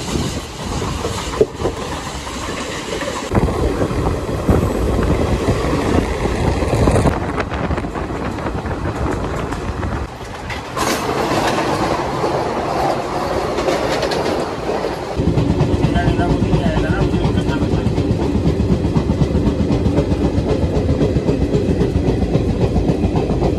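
Garib Rath express train, 3rd AC coach, running from Mumbai to Delhi: continuous loud rumble and rhythmic clickety-clack of wheels with wind buffeting the microphone, shifting in intensity over time, heard from inside the moving carriage.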